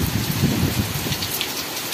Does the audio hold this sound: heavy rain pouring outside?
yes